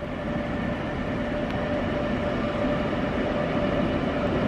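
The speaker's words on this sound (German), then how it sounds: "So, von rechts kommt tatsächlich der Güterzug" Freight train pulled by two black MRCE class 189 electric locomotives passes close by on the Black Forest Railway, a steady loud rumble and rolling roar of wheels and wagons throughout with no talk.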